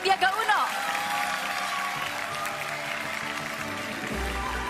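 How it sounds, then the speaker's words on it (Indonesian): Audience applause welcoming candidates Anies Baswedan and Sandiaga Uno at a Jakarta election event, a steady wash of clapping that carries on under a speaking voice. "kita langsung sambut dengan tepuk tangan yang meriah juga ya"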